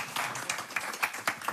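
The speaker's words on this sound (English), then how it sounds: "To give maybe a quick clap of the hands to Rob" An audience at a talk on digital resilience against fraud and cybercrime gives a short round of hand clapping, fairly faint and scattered, a few sharp claps standing out.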